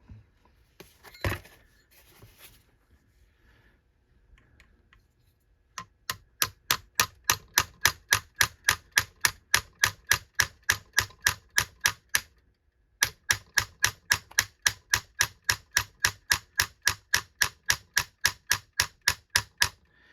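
Hammer taps drive a front sight into a 1911 pistol, dozens of sharp metallic strikes at a fast, even rhythm in two long runs separated by a brief pause, after a quiet start with a few handling noises.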